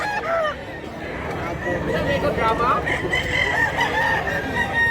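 A rooster crows at a Cebuano poultry seller's stall, where a handsome gray bird about a year old is on offer. Several drawn-out crows and clucks ring out close and loud over steady crowd noise and murmured voices.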